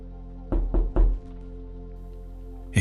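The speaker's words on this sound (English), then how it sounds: "I heard the softest knock, like a fingernail tapping glass" A soft knock on window glass, three quick taps close together near the start, with another faint tap at the very end, over a quiet, humming background.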